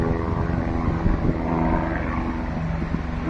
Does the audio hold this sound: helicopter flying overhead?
yes